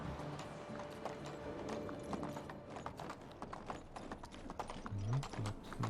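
Steady clip-clop of horse hooves on a path in the medieval life sim Medieval Dynasty, a brisk even trot heard close and clear, with a brief whinny-like sound near the end and no talking.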